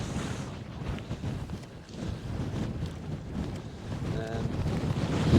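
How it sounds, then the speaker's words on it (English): Strong gusts blow across an exposed Scottish mountain, buffeting the microphone with a steady, rough roar and rising and falling in waves. A faint voice can be heard briefly within the noise. "But yeah, very breezy. In fact, very breezy."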